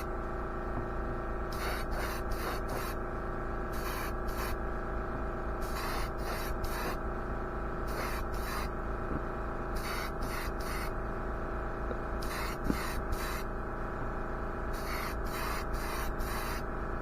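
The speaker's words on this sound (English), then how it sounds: "Excuse the compressor noise there." An air compressor humming steadily throughout while an airbrush lays exhaust pipe paint in short repeated hissing bursts, close and fairly loud, with brief pauses between sprays.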